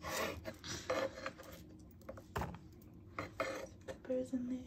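Kitchen knife cutting carrot and peppers on a board at home, with irregular clunks and scrapes of the blade among dish and utensil clatter, close and moderately loud, some faint talk in the background.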